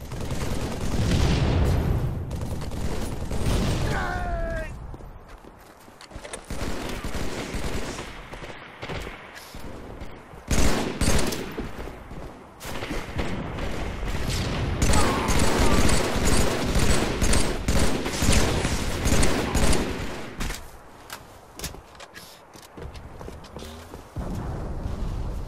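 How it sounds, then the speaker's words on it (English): Needler fire and combat in Halo 3, a dense stream of rapid shots and crackling impacts that runs almost continuously, loud and close, with brief lulls and no speech. "Strongest needler I've ever seen. Never seen needles lock on like that."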